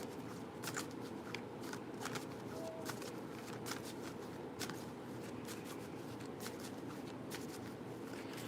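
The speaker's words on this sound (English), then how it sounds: "I'm going to shuffle, and then I'm going to have you pick another cards" A deck of oracle cards is shuffled by hand in repeated quick riffling bursts, crisp and close, running steadily with faint room noise beneath.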